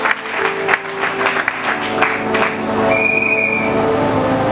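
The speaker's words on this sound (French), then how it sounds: "Est-ce qu'on peut acclamer?" A church congregation applauds and cheers at a French-language sermon, a dense continuous wash of clapping with a sustained whistle-like tone rising partway through.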